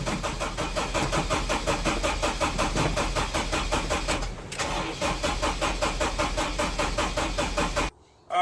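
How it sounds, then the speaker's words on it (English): Honda Accord with a supercharged K24 engine after a fuel system upgrade, cranking repeatedly without catching: a fast rhythmic starter churn loud and close, a brief pause midway, then cranking resumes before cutting off near the end. "We got fuel pressure, but the car just doesn't want to start."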